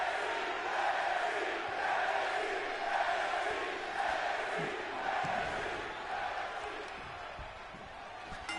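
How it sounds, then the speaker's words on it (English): Video game crowd in WWE 2K24 wrestling booing a Hall of Fame wrestler, a steady, dense roar of many voices sustained throughout and fading slightly toward the end. "Listen to these disrespectful idiots booing Trish Stratus"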